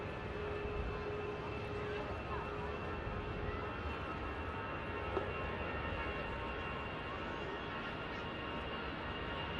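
An EasyJet Airbus A320 rolls down runway 05 left at Manchester Airport, its engines a steady, moderately distant roar that holds throughout.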